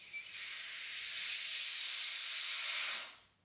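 Air hisses out of the small valve on a Sico Nevada vacuum sealer box, a steady, loud, close hiss that builds slightly, holds for about three seconds, then cuts off quickly.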